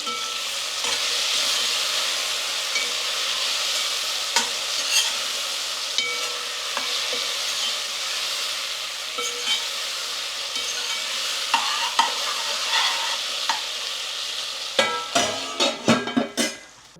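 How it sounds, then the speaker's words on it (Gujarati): A gourd sambharo vegetable mix being stirred as it fries in a pan, a continuous sizzle broken by repeated scraping strokes and a cluster of sharp utensil clacks against the pan near the end. "આપણે ઘોલાનો સંભારો ફરી વાર મિક્સ કરી દઈએ"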